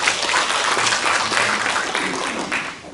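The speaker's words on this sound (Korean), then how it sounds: "네, 박수 부탁드리겠습니다" Audience applause fills a lecture hall at a Buddhist studies academic conference, a steady, dense round of clapping that holds at an even level for about three seconds.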